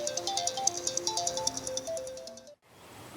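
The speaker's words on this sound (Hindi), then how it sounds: "कब से शोर मचा रहा है तेरा फोन?" A mobile phone ringtone plays as a repeating electronic melody of bright beeping tones for about two and a half seconds, then cuts off abruptly.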